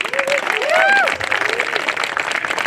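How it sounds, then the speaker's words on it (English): Crowd applause at the 2018 Australian National Skydiving Championships in Nagambie, a close, steady clatter of many hands mixed with cheering and whooping voices throughout. "So round of applause for those guys."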